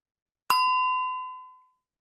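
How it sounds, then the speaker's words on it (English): A single bright bell ding marks the end of a timed reading minute, struck once and left ringing clearly before it fades in the quiet. "at the end of the minute, a bell will sound"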